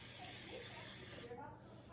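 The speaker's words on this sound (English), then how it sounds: "Instead of drizzling, I'm just gonna spray some oil on everything." Olive oil mists from a handheld pump sprayer onto tomatoes in a home kitchen, a faint steady hiss lasting just over a second before cutting off abruptly.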